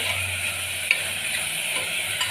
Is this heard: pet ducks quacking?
no